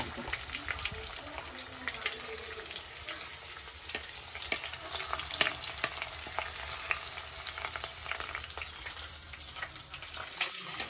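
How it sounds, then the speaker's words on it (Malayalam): Ginger and garlic sizzle and crackle in hot oil for a fish curry, with steady frying hiss, occasional stirring clinks and no talk. "നമ്മുടെ ഇഞ്ചിയും വെളുത്തുള്ളി അതൊക്കെ ഒന്ന് ഇട്ട് കൊടുക്കാം കേട്ടോ അപ്പോൾ എണ്ണയൊക്കെ തിളച്ച് വന്നിട്ടുണ്ട്"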